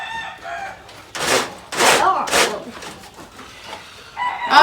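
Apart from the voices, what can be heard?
chicken clucking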